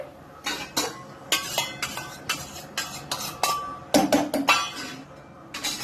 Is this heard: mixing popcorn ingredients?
yes